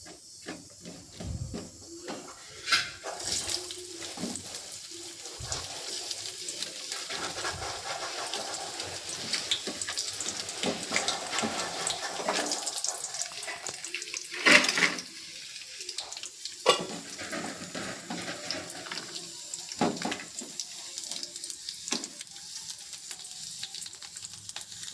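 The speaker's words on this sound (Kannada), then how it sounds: "ಸೊ ಇವನ್ನೆಲ್ಲ ಈಗ ಫ್ರೈ ಮಾಡೋಣ" Cashews and peas fry in oil in a pan for a cashew matar masala, a close, continuous sizzle and hiss broken by occasional stirring scrapes and clinks.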